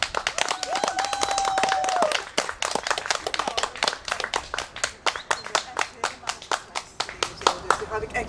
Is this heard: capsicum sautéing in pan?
no